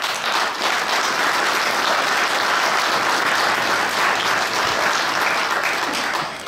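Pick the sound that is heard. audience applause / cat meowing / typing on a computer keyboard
audience applause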